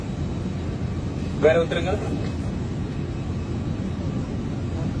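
Steady airplane engine drone fills an airliner cabin through the whole of a long domestic flight, loud and constant, with a brief spoken question partway through.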